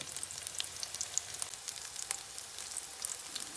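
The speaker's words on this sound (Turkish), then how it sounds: "Şimdi yağın içine koydum. Böyle bir kızarıyor." Potato, onion and egg pasta fritter frying in oil, a quiet, continuous sizzle with fine crackling pops scattered throughout.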